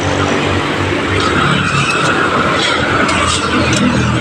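A motor tricycle's engine runs steadily on a street, a constant loud rumble throughout with a few faint clicks and knocks over it.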